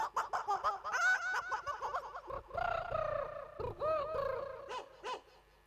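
A male stage performer imitates a chicken with his voice, giving a rapid run of squawking, clucking calls in quick bursts, close and fairly loud, without other sounds.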